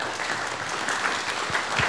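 An audience at an interfaith conference in Toowoomba applauds as Associate Professor Keith Thompson comes up to speak, with a steady wash of clapping from many hands that stays even throughout.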